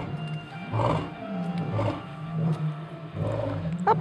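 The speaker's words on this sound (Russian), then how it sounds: "Как молодые тигры реагируют на прикличку львов." Lions roar at Taigan park in Crimea, a series of deep, rumbling calls repeating about once a second, fairly close, with some outdoor background noise and no talking.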